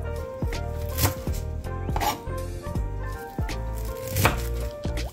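Knife chopping raw cabbage finely on a board, steady repeated crisp cuts in a quick rhythm, close and fairly loud with no talking.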